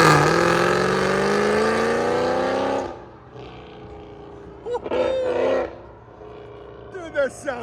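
A 2004 Mercedes E55 AMG with long-tube headers, an X-pipe and C63 AMG mufflers roars through a loud, rising rev that holds for about three seconds, then drops away to short throttle blips, with people talking and cheering nearby.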